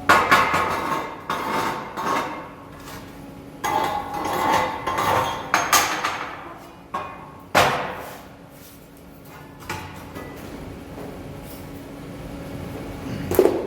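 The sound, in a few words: chipping slag off steel welds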